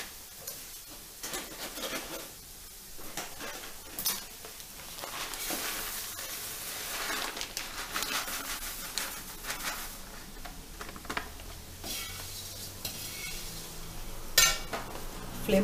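Poha being stirred and fried in a pan over medium flame, with repeated clinks and scrapes of a metal spoon against the pan over a low sizzle, close and irregular.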